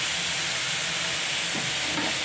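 Coriander, chili and turmeric powders fry in hot oil in a pan for a green peas curry, giving a steady, soft sizzle with a little stirring throughout, close by and with no talking.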